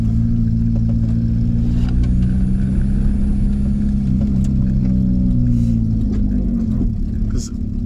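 Close, loud interior drone of a VW Camper with a swapped TDI diesel engine under full throttle, a steady low rumble with harmonics slowly rising in pitch as it accelerates, with no talking.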